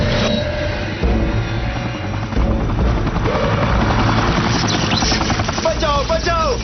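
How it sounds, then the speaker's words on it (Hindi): A cartoon helicopter in trouble clatters loudly with a dense rotor chop and engine roar, while excited voices and swooping effects rise over the din. "हेलीकॉप्टर में प्रॉब्लम हो गई है।"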